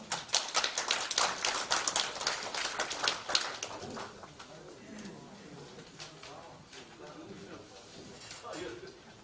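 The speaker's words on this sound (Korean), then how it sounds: "박수로 부탁드리겠습니다" An audience claps for an invited speaker at an annual general meeting and New Year gathering, a burst of many hands lasting about four seconds before fading into room noise and faint movement.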